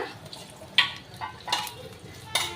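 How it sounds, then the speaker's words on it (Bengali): Sizzling of an egg omelette in a frying pan with a few sharp scraping and stirring clinks, fairly quiet and close, no talking. "দেখো ডিমের অমলেট করছি"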